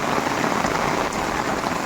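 Heavy monsoon rain in Konkan pounds down in a dense, loud, unbroken roar of drops hitting surfaces all around.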